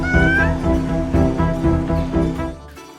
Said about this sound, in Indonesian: suara si kucing terdengar cemas atau bingung